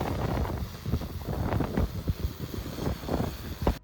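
Strong gusting wind, 15 to 20 metres per second, buffets the microphone at the Bonifacio cliffs on the Corsican coast, a loud continuous rumble with irregular low thumps throughout and no voices.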